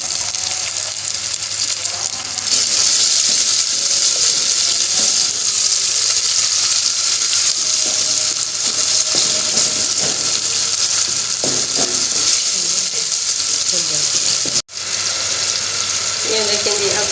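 Chopped tomatoes and green chillies sizzle steadily in a frying pan, a loud continuous hiss with faint scraping and clinks throughout, broken by one brief cutoff near the end.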